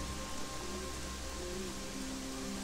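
Steady rain falling in the video game Gothic 3, a continuous dense hiss that fills the whole stretch at even loudness, with a faint tonal hum running underneath and no voices.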